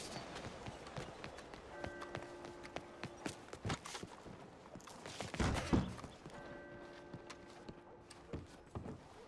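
Horse hooves clip-clopping at a steady run in Red Dead Redemption 2, a moderate rhythmic patter across the ground with a brief louder burst midway, alongside faint ambient outdoor sound.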